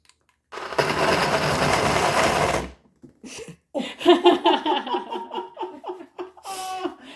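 A BlendJet XL portable blender whirs loudly and steadily for about two seconds, then stops; voices and laughter follow.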